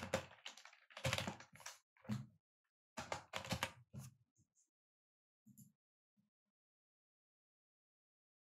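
Computer keyboard typed on to enter a search in the Google Cloud console: close, crisp bursts of rapid keystrokes for about four seconds, then a few scattered single clicks and silence, with no talking.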